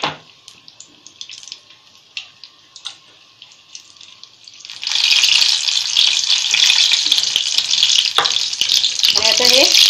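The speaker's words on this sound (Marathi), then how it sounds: "2-3 मिनिटं चांगलं हलवून तळून घ्यायचं." Battered drumsticks frying in oil, starting with light stirring clinks and taps, then a loud, steady sizzle that swells in halfway and holds close to the end.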